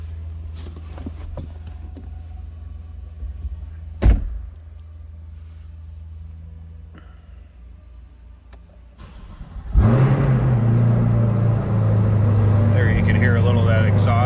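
Quiet rustling and a single thump, then a 2022 Chevrolet Corvette Coupe 2LT engine cranks and fires with a loud exhaust bark before settling into a rumbling, steady idle nearby.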